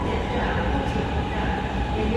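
A Beijing subway train runs from its starting station, producing a steady, dense rumble and rolling noise inside the carriage that holds even throughout.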